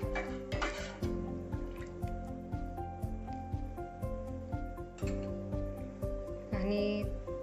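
Coconut milk stirred into Kolhapuri chicken rassa in a pot over a low flame, a steady run of spoon scrapes and pot knocks with a soft simmer underneath, close and moderately loud, no talking.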